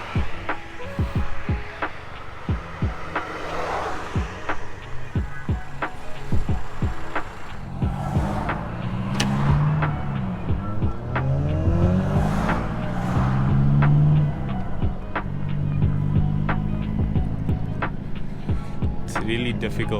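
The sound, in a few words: convoy of Volkswagen cars on the road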